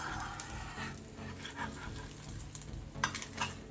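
Pancake batter frying in vegetable oil in a pan, a steady broad sizzle running throughout with a few spoon clinks and stirring scrapes near the end.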